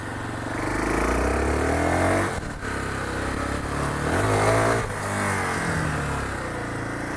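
Motorcycle engine with a sticky throttle, revving and holding at a steady loud drone with one short dip and rise, alone with no talking.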